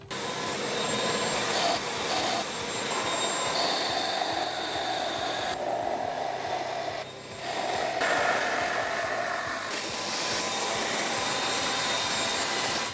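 A drill bores a hole with a 2-inch bit into a guitar body, giving a loud, continuous close whine and roar with brief dips in pitch as the bit bites.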